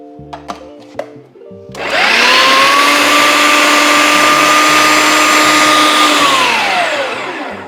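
A V-Guard Massivo food processor mincing chicken: a few light clicks, then the motor spins up into a loud, steady high whir held for several seconds before slowing down, close and with no talk.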